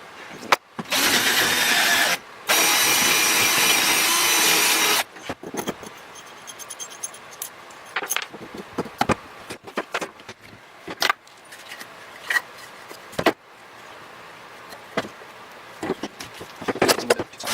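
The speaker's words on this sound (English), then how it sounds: "Alright, I'm ready to drill a hole." A power drill bores a hole in a 2x4 while a stitching pony is built, with two loud, steady bursts of whirring separated by a short pause, then scattered clatter and knocks of handling wood and tools.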